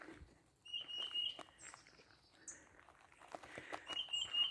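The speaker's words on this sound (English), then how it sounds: "I just heard the chirp of a redbird." Short chirps of a northern cardinal (redbird) outdoors, a few bright high notes scattered among rustling and footstep-like patter, moderately close but faint.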